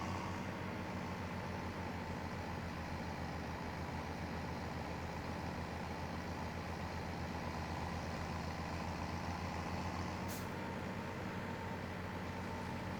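In Farming Simulator 17, a truck pulling a trailer rolls downhill, its engine a steady low drone with constant road rumble, unbroken and fairly even in level throughout.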